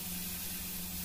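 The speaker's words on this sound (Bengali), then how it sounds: "এভাবে ধনিয়া পাতাটাকে আমি ভেজে নিব যতক্ষণ না পর্যন্ত ভাজা হয়" Coriander leaves fry in butter in a pan, a brief, steady sizzling hiss with no speech.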